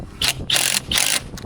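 U2 fastener universal screws are driven into a carport frame in three short, close bursts of rough, whirring mechanical grinding, each lasting under half a second with brief gaps between.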